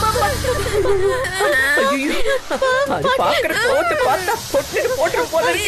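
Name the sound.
snake hissing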